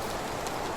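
Heavy summer rain pours down in the medieval village game Medieval Dynasty, a dense, loud, unbroken hiss of downpour with no voices over it.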